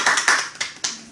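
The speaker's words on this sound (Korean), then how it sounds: "박수 한번 치겠습니다." An audience claps after a Korean poem reading, heard as a few loud, separate claps in quick succession, each one sharp at the start and fading fast.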